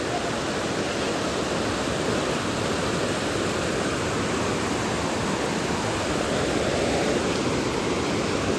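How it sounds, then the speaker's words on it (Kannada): River rushing past the sacred Sahasralinga site at Banavasi, a dense, steady roar of flowing water, loud and close, with no breaks. "ಹೊಳೆ ನೋಡಿ ಯಾವ ರೀತಿ ಹೊಳೆ ಹರಿತಾ ಇದೆ"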